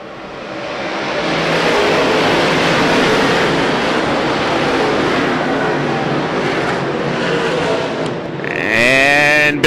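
Race cars accelerate on a restart at a Friday night dirt track race, a dense loud roar of engines swelling and holding steady before a nearby engine revs sharply up at the end.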